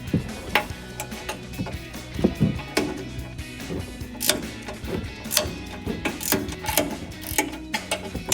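An 18mm ratchet and socket loosens the strut nuts on top of a coil-over housing on a 2021-2025 Ford F-150 front end, giving repeated bursts of close, clicking pawl ticks in an uneven rhythm with no talking.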